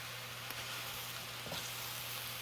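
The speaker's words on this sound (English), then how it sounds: "we want to saute it a bit" Mushrooms sauteing in a pan for a mixed mushroom stir fry give a steady, quiet sizzle throughout, with a couple of faint stirring clicks and no talking.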